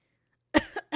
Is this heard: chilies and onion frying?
no